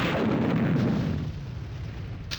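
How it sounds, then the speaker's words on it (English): Explosion sounds from the video game Army Men: Sarge's Heroes: a deep, rumbling boom that starts loud and decays over about two seconds, with a faint crackle at the end. "Decent explosion sounds too"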